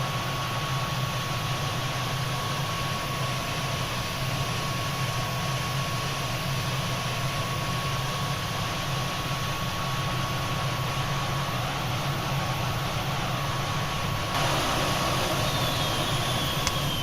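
A Tornado GR.1 jet and its APU in Microsoft Flight Simulator hum in a steady, unbroken drone with a thin, constant whine on top, even and close throughout with no voices.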